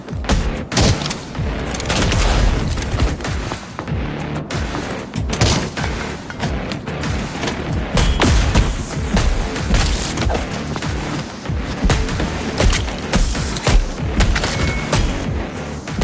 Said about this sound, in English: Oh, they've got grenade. That's what's going on.